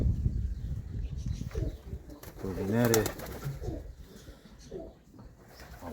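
Ornamental pigeons at a breeder's loft coo softly in a low, throaty warble, with a clear coo sequence in the middle, while a person talks quietly nearby.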